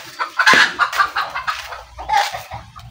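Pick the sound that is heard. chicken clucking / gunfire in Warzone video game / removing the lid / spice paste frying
chicken clucking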